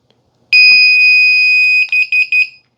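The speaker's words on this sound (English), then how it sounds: "Those 3 beeps mean that it has accepted the mode." A 12-channel remote control receiver gives a loud, shrill electronic tone for over a second, followed by three quick beeps in a row confirming its mode.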